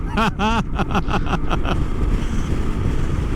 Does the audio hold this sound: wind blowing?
yes